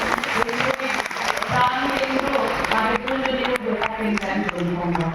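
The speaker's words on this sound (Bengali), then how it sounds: "আমি চাই অনুপমার জন্য আপনারা সবাই একটা জোরে হাততালি দিতে চান" A crowd claps and cheers for Anupama at a first-day film show featuring the cast of Aajo Ardhangini, steady and dense across the clip, with voices and a singer's tonal line running underneath.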